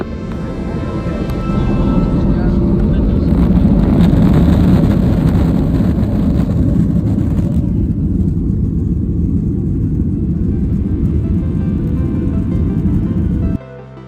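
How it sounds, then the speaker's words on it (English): A Ryanair airliner takes off from runway 26 at Luton, heard from inside the cabin as a loud, steady low engine roar that builds and holds for the whole stretch before cutting off abruptly at the end. "We took off from runway 26 at Luton, about an hour behind schedule, and without the need for a backtrack."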